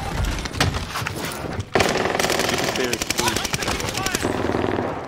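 Automatic gunfire in Call of Duty Warzone on Rebirth Island, rapid close bursts of SMG shots in rattling strings, with a brief lull and then sustained firing, under voices talking over it.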